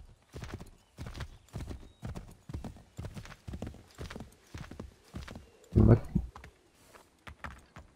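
Horse hooves clip-clop in a steady galloping rhythm in Assassin's Creed III, close and even throughout, with one heavier thud near the end.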